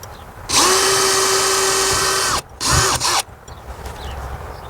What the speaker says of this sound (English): So we're just going to drill a very small hole in here